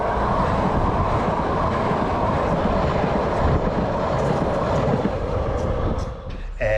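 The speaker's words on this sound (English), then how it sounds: "There's also the sounds of trains passing by." A passing train roars and rattles loudly and close by at a rooftop terrace on a shipping container, with a dense continuous rumble of wheels on rails that fades slightly near the end.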